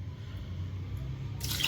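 Water splashes into a karahi holding raw beef: a soft dripping, liquid sound that swells into a brief, brighter pour near the end.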